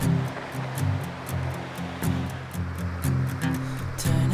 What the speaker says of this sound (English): And it leads to some beautiful waterfalls.